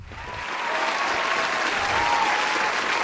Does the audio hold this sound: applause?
yes